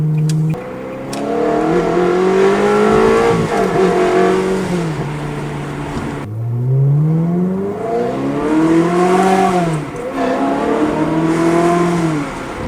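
A Ferrari engine revs and accelerates with an automatic throttle blip, its loud harmonic drone rising and falling in several sweeping pulls heard from inside the car, with no talk over it.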